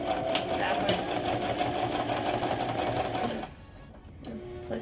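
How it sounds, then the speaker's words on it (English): A sewing machine running a zigzag stitch on a child's tutu, a steady close whirring hum for several seconds before stopping, followed by brief quiet handling and a voice talking. "I'm going to use the zigzag stitch so that it can still stretch"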